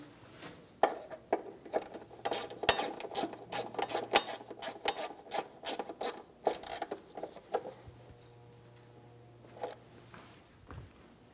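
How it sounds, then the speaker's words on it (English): A ratchet tightens the bolt on an ABS sensor bracket of a 2013-2017 Honda Accord, a run of quick rasping clicks in bursts, close and clear, tapering off toward the end. "Install the bracket and the bolt, and then snug them down."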